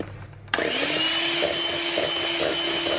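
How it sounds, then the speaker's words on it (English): An electric whisk whips egg whites into meringue for a gluten-free lemon custard cake, its motor kicking in suddenly and holding a steady, close, high whirring drone with a faint rattle of beaters in the bowl. "Now we're going to whisk the whites till we've got lovely meringue type mixture"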